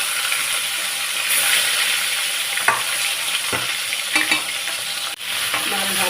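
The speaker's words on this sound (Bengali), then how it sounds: "তেল গরম হয়ে গেছে, এইবারে আমি মাছগুলো ভেজে নেব।" Fish pieces hiss and crackle in hot oil in a pan with a dense, continuous sizzle, close and loud. Occasional light clicks of a utensil stirring come through over six seconds without talking.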